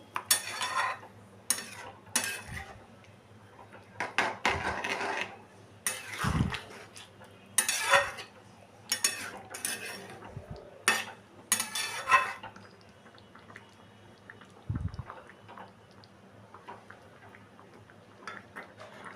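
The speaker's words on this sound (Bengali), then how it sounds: "সামান্য ঘি দিলাম, দিয়ে ভালো করে আমি এটাকে মিশিয়ে নিচ্ছি।" A spoon mixes morich jhol with a little ghee in a pot, giving quiet, intermittent scraping and knocking strokes of metal against the vessel over a low background hum.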